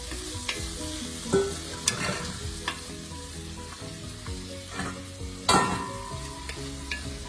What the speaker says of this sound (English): we saute this for about 5 minutes till everything turns soft